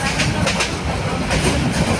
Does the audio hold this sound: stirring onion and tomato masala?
no